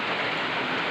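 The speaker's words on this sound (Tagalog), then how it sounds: "Kay ulan kaayo." Heavy rain pours down in a dense, continuous hiss, loud and close, with no break across the brief moment.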